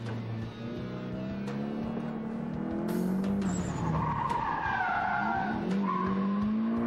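Drift car tires skidding and squealing on asphalt at the start of a drifting competition run, with engine revving and a sustained loud screech under steady crowd-like noise.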